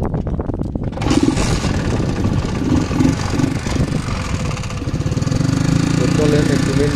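A modified motorcycle runs under a rider on a ride near Debinagar, Faridpur, its engine a steady, rough, buzzing drone close to the microphone, rising slightly toward the end.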